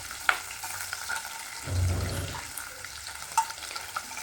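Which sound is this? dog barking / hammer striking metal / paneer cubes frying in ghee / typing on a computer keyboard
paneer cubes frying in ghee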